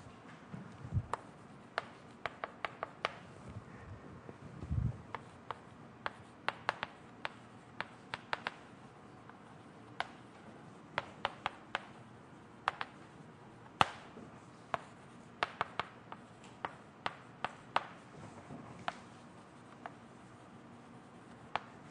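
Chalk tapping and scraping on a classroom blackboard during a university differential equations lecture, a steady run of short, sharp clicks and taps spread across the span, fairly quiet with no talking.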